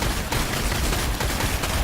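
Rapid gunfire bursts from the Warhammer 40k Sanctus Reach video game, a dense, continuous clatter of overlapping shots that stays loud and steady throughout, with no voices.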